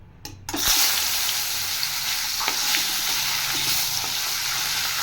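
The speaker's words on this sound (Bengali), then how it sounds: "মাছটা ভেজে নেব। এবার আমি তেলটা গরম হয়ে গেছে" Fish frying in hot oil, a loud continuous sizzle that flares up after a sharp clatter near the start and then holds steady, close and alone.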